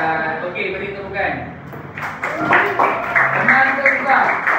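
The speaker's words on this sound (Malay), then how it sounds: "Okey, beri tepukan" Pupils clapping together in a classroom, a dense burst of claps starting partway through and carrying on under children's chatter and a teacher's voice.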